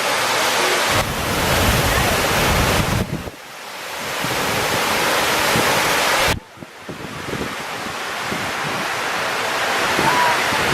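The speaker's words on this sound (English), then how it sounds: "It's a fountain and it just kind of sinks into a hole." Water pours into the 9/11 Memorial fountain in New York and sinks into a hole, making a steady, loud rushing roar that fills the whole clip, with two brief dips in the wash.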